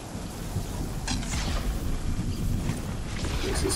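A video game thunderstorm rolls on as a steady, dense wash of low rumbling and hissing rain, with brief brighter crackles, filling the whole stretch at moderate loudness.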